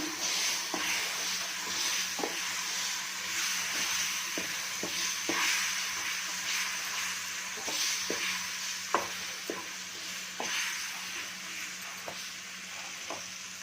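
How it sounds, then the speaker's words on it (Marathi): Mango pulp being stirred into ghee-rich sheera in a pan, a soft continuous sizzle with scraping strokes and light spoon taps at irregular intervals, close and steady with no talk. "एक वाटी मँगो पल्प घेतलेला आहे हे छान मिक्स करून घ्यायचे"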